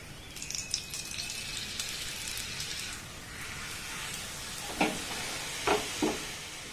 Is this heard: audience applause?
no